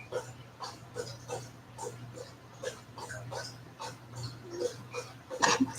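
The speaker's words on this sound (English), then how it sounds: "Sorry, my dog's drinking." A dog laps water at close range, a steady run of rhythmic wet slurps over a constant low hum, with a louder clatter near the end.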